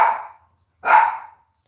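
A small dog indoors lets out two sharp, loud barks close by, separated by about half a second of silence, with no voices.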